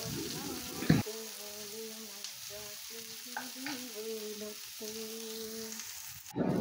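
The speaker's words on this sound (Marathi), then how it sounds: "लाल थोडेसे ब्राऊन होईपर्यंत आपल्याला हे कांदे परतून घ्यायचे आहे" Onions stirred and sautéed on a flat griddle pan until light brown, giving a quiet steady sizzle with occasional scrapes. A faint sustained tonal hum runs underneath.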